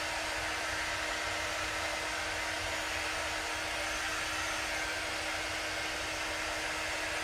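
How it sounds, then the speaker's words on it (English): A quick dry heat tool blows hot air to dry craft ink on guest towels, a loud, steady, unbroken whir that runs the whole stretch with no talking. "I'm just getting this good and dry with my quick dry tool"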